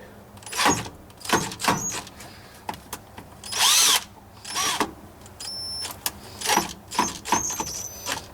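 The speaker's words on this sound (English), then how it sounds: "We need to drill this out real quick with a 21/64 bit" A power drill with a 21/64 bit whirs in repeated short bursts, drilling out a stripped thread hole on a Corvair, revving up and down, with some metallic squeal and clatter between runs.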